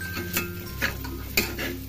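A spoon stirs and mixes spices in a metal cooking pot for a quick rice dish, giving soft scraping sweeps broken by three or four distinct clinks of utensil on the pot, close and moderately quiet.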